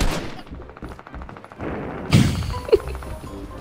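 Gunfire in Fortnite Battle Royale, a rapid string of game shots with a couple of heavier impacts, loud and close over muffled game background.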